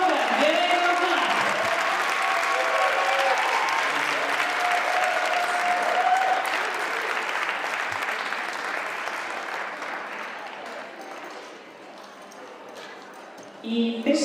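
Audience applause at a team gymnastics competition, steady broad clapping that fills the hall for most of the stretch and gradually thins out, with whistles and cheers and an announcer's voice over it.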